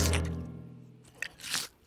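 Cartoon chewing of a juicy rain pear: a few short crunchy, squishy bites, fairly close and alone, with a louder burst of munching toward the end.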